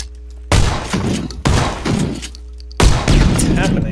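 Gunfire in a video game, three heavy bursts of shots and impacts starting abruptly, each ringing out loudly and tailing off before the next, with a steady hum between them.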